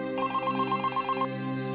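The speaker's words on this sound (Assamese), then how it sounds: "প্ৰকাশে ফোন কৰি আছে কিবা খবৰ পাইছে নেকি সুধো" A phone ringing in a TV drama scene, a repeating electronic ringtone melody of quick pulsed notes over a low steady hum, ending after about a second of tune.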